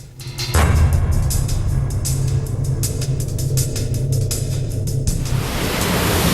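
Sewage outflow gushes into the Ganga river as a loud, steady roar of rushing water that starts abruptly and continues without pause, broad and noisy like a waterfall.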